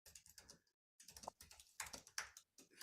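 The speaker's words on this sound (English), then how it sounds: "finish typing to another person there" Rapid keystrokes on a computer keyboard in bursts of close, fairly quiet typing, broken by a short pause in the middle.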